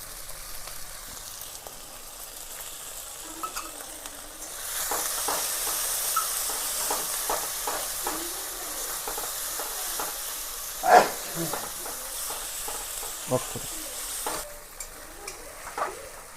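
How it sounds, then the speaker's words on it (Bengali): Spice paste of ginger, chili and cumin fries with a little water in a pan for katla kalia. A hissing sizzle swells midway, and repeated spatula scrapes and taps stir through it. "হালকা জল দিয়ে মশলাটা ভালো করে কষিয়ে নিচ্ছি"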